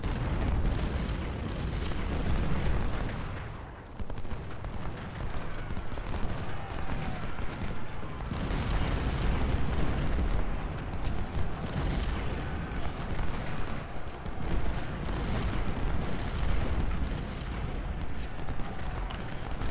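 Dense artillery and massed gunfire in the Civil War strategy game Ultimate General: Civil War, a continuous loud rumbling barrage of overlapping booms and cracks, heard alone with no talking.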